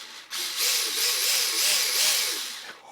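An Axial SMT10 RC crawler on a 2S battery runs its motor under throttle, giving a steady close whirring whine with gear chatter that rises and wavers for a few seconds before cutting off.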